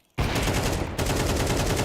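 Shotgun fire during an ESL Challenger League esports match, a loud close blast followed by a dense continuous burst of gunfire that fills the whole moment.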